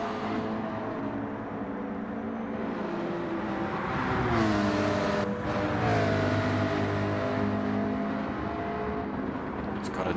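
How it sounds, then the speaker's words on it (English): A GR4 Porsche race car in a racing video game at Suzuka storms past, its engine note rising and falling in pitch through gear changes amid a steady drone of other cars, with a commentator talking throughout. "Mockin goes storming past him in the GR4 Porsche"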